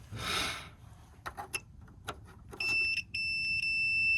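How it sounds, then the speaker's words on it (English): A few brief clicks and taps, then a steady high-pitched electronic beep from a multimeter continuity tester checking a hot tub fuse, sounding in a couple of sustained bursts, close and clear. "when you touch the two ends together, it's gonna beep"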